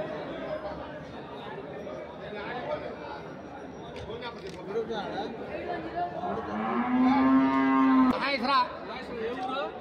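A water buffalo lets out a long, low moo close by, rising over people chattering nearby.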